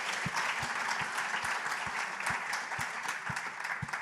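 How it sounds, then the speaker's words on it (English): A seated audience at a literary event applauds steadily, a dense wash of many hands with a few louder nearby claps repeating regularly, and no talk over it. "I think that deserves a clap."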